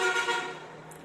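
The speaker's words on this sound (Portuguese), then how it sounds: "o pessoal passa lá na avenida buzinando" Car horns honking on a city avenue outside, a sustained toot that slowly fades, heard from a distance indoors with no talking over it.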